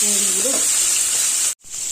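Steady, close sizzle of prawns frying in hot oil, a bright continuous hiss that cuts out briefly near the end before resuming.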